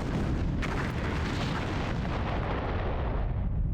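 Torpedo explosions in the space combat game Star Trek Bridge Commander, a dense continuous roar of booming blasts that fills the whole clip at steady loudness with no speech.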